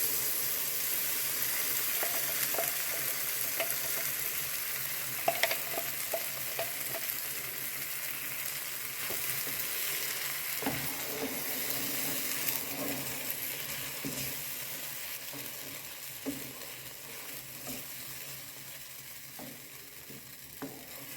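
Mint, coriander, cashews, ginger-garlic paste and green chilies fry in oil, giving a steady soft sizzle with occasional spoon scrapes and stirring clicks over about twenty seconds, fairly quiet and without talk.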